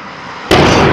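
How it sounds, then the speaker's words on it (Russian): Gas cylinders explode in central Samara. A sudden, very loud blast cuts through steady background noise and becomes a sustained, heavy roar. "Произошел взрыв трех баллонов, предположительно."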